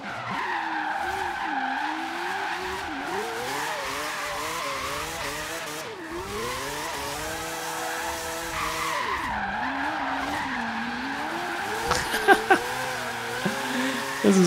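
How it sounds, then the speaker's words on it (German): A racing car with a Mazda 787B engine revs and whines continuously in Forza Horizon 3, pitch swooping up and down as tires squeal through drifts; brief sharp bursts near the end. "Oh, das klingt schon brutal, oder? Mit dem 787B-Motor."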